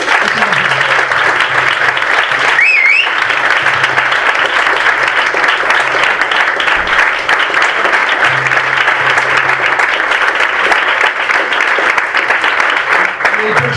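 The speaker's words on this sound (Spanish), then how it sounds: "Muy amable también, un aplauso para Emilio." Loud, steady applause from an audience fills the room right after a talk, holding dense and continuous throughout, with voices calling out faintly underneath.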